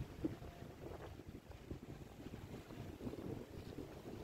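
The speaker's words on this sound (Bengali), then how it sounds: "ঠান্ডা বাতাস" Wind gusts rumble across the microphone at Enoshima beach near Tokyo, a low, faint, uneven buffeting with soft surf-like wash beneath, continuous and without voices.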